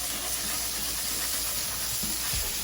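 Smashburger patties searing together on a Blackstone griddle, a loud, continuous close-up hiss and sizzle with a few faint clanks underneath.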